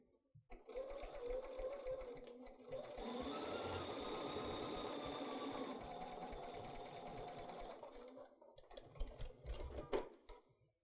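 A sewing machine stitches fabric, a fast, steady, close mechanical chatter that runs for several seconds, with a little quiet talk and handling noise before and after.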